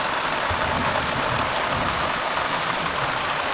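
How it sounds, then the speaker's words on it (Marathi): Heavy rain pours steadily, a dense continuous hiss of water drumming on surfaces, loud and unbroken with no voices. "बाहेर बघा दाखवतो पाऊस कसला करतोय बघा आल्या आल्या पावसाला सुरुवात झालेली आहे"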